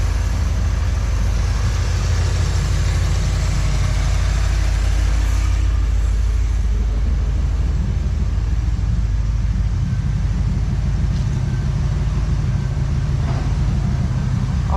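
A 1986 Pontiac Trans Am with fuel starvation trouble idles steadily, a continuous low rumbling engine drone heard up close without pause for the whole stretch.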